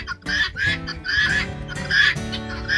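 Guinea fowl and chickens being herded together by a red heeler on an off-grid homestead, a close flurry of overlapping honking, cackling calls and clucks in quick repeated bursts.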